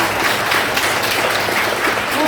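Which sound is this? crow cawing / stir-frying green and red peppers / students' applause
students' applause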